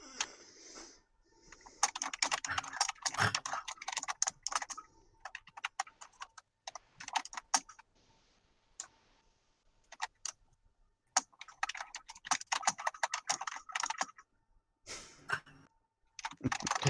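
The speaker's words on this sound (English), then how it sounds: "is that my keyboard making noises again?" A normal non-mechanical LED computer keyboard clatters under bursts of fast typing, close and quiet, in irregular runs separated by short pauses.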